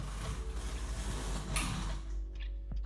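A home knitting machine stitching, its carriage making a close, steady, rhythmic mechanical clatter with creaking, ratchet-like ticks for about two seconds before tapering off into quieter clicks.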